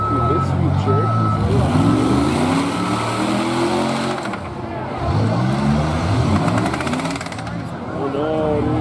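A Jeep Cherokee in a demolition derby, its engine revving and roaring up and down amid other cars, loud and close, with crunching and rattling impacts, shouting voices mixed in.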